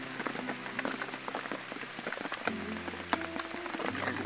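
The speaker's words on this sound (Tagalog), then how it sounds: "Ayun guys, umuulan guys." Rain patters steadily on an outdoor farm, a busy crackle of drops striking nearby surfaces with a low hum running underneath throughout.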